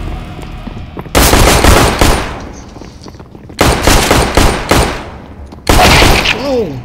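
Loud bursts of automatic gunfire in Counter-Strike: Global Offensive, three separate volleys of rapid shots split by short gaps, close and dominant, with a voice heard briefly at the end.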